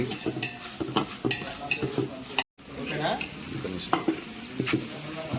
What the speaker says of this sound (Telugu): టమాటా ముక్కలు అన్నీ కలుపుకుంటూ కొంచెంసేపు అలా మగ్గనివ్వాలి